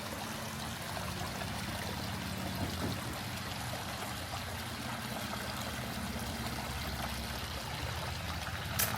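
Running water flows steadily through a garden area at a zoo safari park, a continuous close trickling and streaming wash that holds evenly throughout with no voices.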